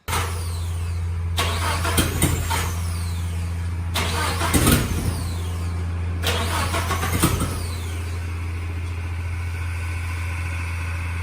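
Nissan Hardbody D21 turbo engine cranking three times in separate bursts over a steady low drone, each attempt a loud whirring crank with sputtering catches, recorded close.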